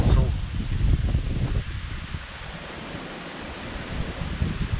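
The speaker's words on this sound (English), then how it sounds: "Apologise if the wind's making it difficult on the sound, but yeah, it's really blustery now." Blustery wind buffets the microphone outdoors at a riverside barbel fishing spot in August, loud rumbling gusts that swell and ease throughout, close and dominant.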